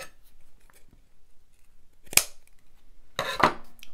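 Two short, crisp snips of scissors cut through paper, separated by quiet, close and distinct.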